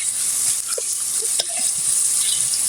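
Onions sizzle steadily in oil on a wood-fired stove, a dense bright frying hiss broken by a few light scrapes and taps of a spoon stirring the pan, close and continuous.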